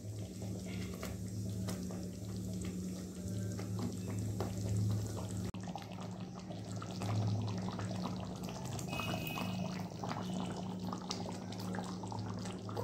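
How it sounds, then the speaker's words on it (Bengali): Pointed gourd (potol) boiling in a sweetened curd gravy makes a soft, continuous bubbling and simmering that runs steadily throughout at low volume. "খুব ভালোভাবে ফুটে গেছে বন্ধুরা আমার পটলটা।"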